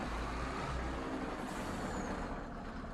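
Truck engine in Farming Simulator 25 rumbling steadily and loudly throughout, with a brief hiss of air brake midway, no talking.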